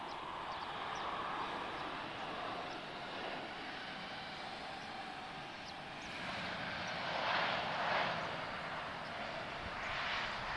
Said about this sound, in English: we've got British Airways A320neo off to Heathrow.